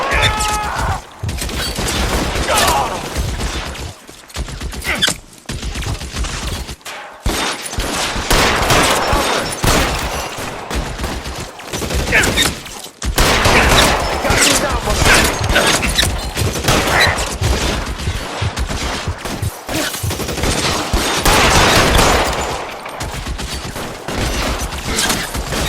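Heavy gunfire in a shootout in the video game L.A. Noire: loud, dense volleys of shots and bangs crowd together in bursts with brief lulls, while characters shout over the fighting.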